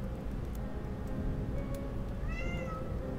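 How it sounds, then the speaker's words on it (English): A house cat gives one short meow behind steady game background noise, faint and brief. "Sorry if you can hear my cat."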